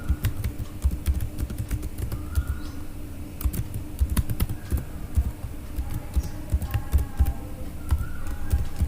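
Close clicking of keys on a computer keyboard as an email ID is entered, in quick irregular bursts of taps over a low background hum.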